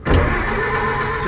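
A 1931 Ford Model AA 1 1/2 ton truck engine, long unused, cranks and catches, settling into a loud, steady running rumble close by.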